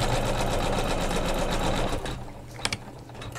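An embroidery sewing machine quilts a flanged pillow, tacking fabric strips down along the seam allowances. Its needle chatters fast and steadily for about two seconds, then slows into a few separate clicks and thumps.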